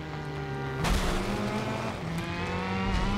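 Rally car engine from the racing game Driver: San Francisco, a steady mid-level droning roar with a sharp rise in revs near the one-second mark, then holding a harmonic whine throughout.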